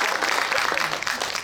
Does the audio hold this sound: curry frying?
no